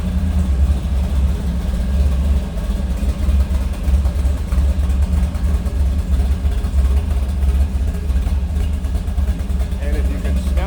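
A 1957 Chevrolet 210 street rod engine rumbles steadily at close range with a deep, throaty idle, loud and continuous, with some faint talking mixed in.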